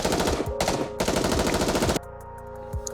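A rapid hail of automatic gunfire in the video game Nikke: Goddess of Victory rattles loudly and continuously for about two seconds, then cuts off, leaving a quieter background with a faint thud.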